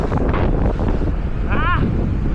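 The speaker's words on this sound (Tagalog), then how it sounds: "Mahangin! Mahangin ang ride at makulimlim." Strong wind roars steadily across the microphone during a group bike ride, a loud continuous buffeting rush with a brief whistling tone near the end.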